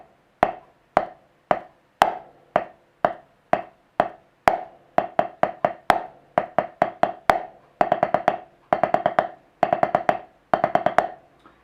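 Five stroke roll exercise on a drum: evenly spaced single strokes at first, then crisp, tight clusters of quick rolled strokes repeating in a steady pattern, close and alone.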